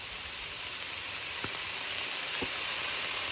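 Soy sauce hits frying vegetables in a hot pan, a steady bright sizzling hiss with a couple of faint clicks, close and continuous with no talking.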